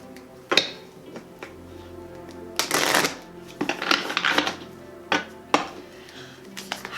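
Tarot cards being shuffled during a self-love reading, with several crisp riffle and flicking bursts spread across the clip, fairly close and loud, a longer flurry near the middle, no speech over it.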